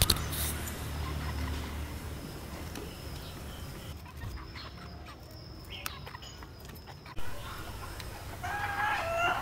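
Chickens cluck around a yard while a rooster crows, set against a noisy outdoor background.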